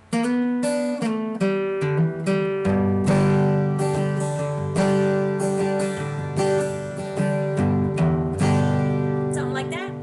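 An acoustic guitar plays a sequence of plucked notes and chords, ringing out steadily and close, with no voices.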